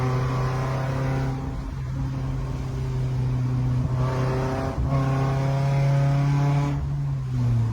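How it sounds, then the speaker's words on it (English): A car engine runs roughly, its throttle cutting on and off, producing a steady droning hum that surges and dips a few times over several seconds, fairly close and without voices. "pay attention to that throttle. Notice how it was super on and off and sounded very rough"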